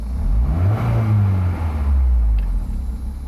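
A stock early Honda S2000 AP2 with its 8,000 RPM engine revs loudly close by, with a deep rumbling tone that rises and falls in pitch before settling, and no voices.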